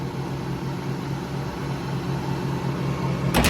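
A steady mechanical hum of a car engine running with the hood open, even and continuous, with a brief sharp noise at the very end.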